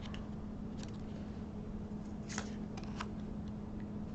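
Tarot card deck on cardstock being shuffled by hand, soft papery riffles and taps over a steady hum, faint and close, with no talk.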